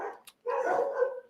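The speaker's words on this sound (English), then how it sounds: "it's dogs that are making an appearance" A dog barks close by in the background of a sports talk podcast: one short bark, then a longer run of barking and yelping, with no talk over it.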